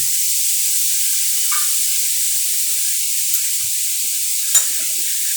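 Pickle mixture of raw mango with mustard seed and added jaggery stirred in a pan, giving a steady sizzling hiss throughout with a couple of faint scrapes of the spoon.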